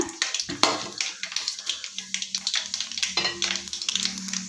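Rapid crackling and popping of mustard seeds in hot oil, small seeds spluttering in a steady stream of sharp bursts, close by, with faint stirring noises.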